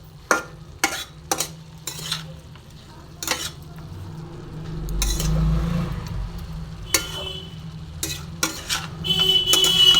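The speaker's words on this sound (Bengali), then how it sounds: "দিয়ে আমি খুব সুন্দর করে নাড়াচাড়া করে আবার চাপা দিয়ে দেবো।" Spinach cooking in a pan with sugar and Kashmiri chili powder, alongside coconut, peanuts and bori, is stirred with a spatula: repeated sharp scrapes and clinks against the pan over a low, rising sizzle, close and fairly loud.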